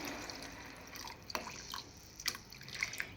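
Water is poured into a pan of cashew curry, heard as faint, scattered drips and small splashes against a quiet trickle, with a few sharper drops toward the end.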